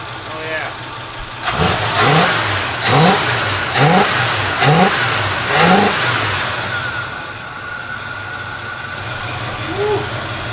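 An old Oldsmobile barn find engine with a GM two-barrel carburetor, abandoned for 23 years, revs in five sharp, loud bursts close by, each rising and falling back to a rough idle, with people talking.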